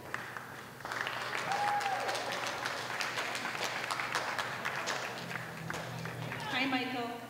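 An audience claps steadily through a grade 8 promotion ceremony, a dense patter of many hands rising after a moment and continuing throughout, with a voice speaking over it near the end.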